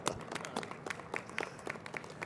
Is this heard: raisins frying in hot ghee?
no